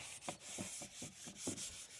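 A rag soaked with mineral spirits rubs back and forth across a paint-stripped wooden cabinet in quick, repeated strokes, soft and close, with no voices.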